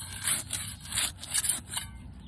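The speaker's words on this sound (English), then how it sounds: "I just cut it away with a masonry trowel" A masonry trowel cuts through the shallow roots of a bee balm clump in a garden, producing several close, gritty scraping and tearing strokes in quick irregular rhythm.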